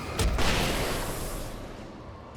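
A flashbang grenade goes off in Alan Wake Remastered, a single loud broadband burst that lingers as a dense hiss and fades gradually over a couple of seconds.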